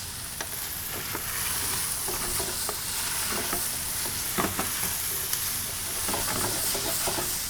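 Chipotles in adobo being stirred into a dish frying in a hot pan, a loud constant sizzle and hiss with intermittent scraping and clinking of a utensil, close up and without speech.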